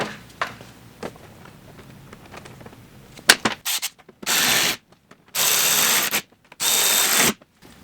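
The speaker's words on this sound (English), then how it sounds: "And then we'll go ahead and get that tightened down." Mud flap hardware being tightened on a 2023+ Chevy Colorado ZR2: a few soft clicks and rubs, then three loud, sustained bursts of what sounds like a power tool running in short pulls, close by with no talk.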